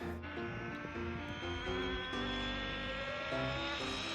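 An Arrma Big Rock RC truck fitted with a 3665 motor runs at full throttle, giving a steady high electric whine with rising tones, continuous and moderately distant, without speech.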